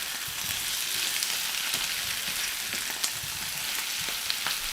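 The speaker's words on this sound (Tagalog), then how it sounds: "I want a little bit brown the champignons or mushroom." Champignon mushrooms browning in a frying pan hiss and sizzle steadily, with faint occasional pops and stirring, at close range and with no talking.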